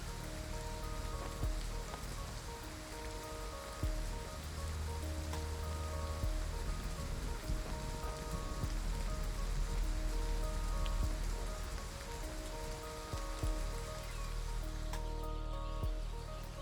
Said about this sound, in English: Is that toxic rain?